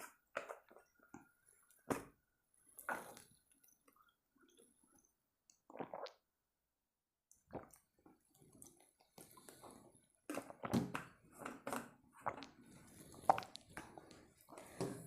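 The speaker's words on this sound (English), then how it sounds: "In the meanwhile, I will have some water." Someone drinking water at a desk: sparse wet sips, gulps and swallowing squishes scattered across quiet pauses, close and soft, with a few small knocks and clatters in between and no talk.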